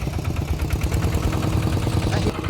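A farm tractor engine runs steadily during rice harvest work in a paddy field, a low, even chugging drone that holds at constant level with no voices over it.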